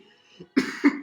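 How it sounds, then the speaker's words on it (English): A few close, harsh coughs from a persistent cough, in quick succession, loud and sharp, with a soft murmur or throat sound just before. "this cough won't go away"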